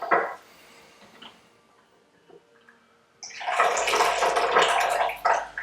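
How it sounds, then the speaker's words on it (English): Tea poured from a gaiwan from a height during a raw Pu-erh tasting, a faint clink early on, then a few seconds of splashing, trickling liquid that tapers off at the end. "And again, I like to do a high pour. I'm just trying to get the tea to cool down."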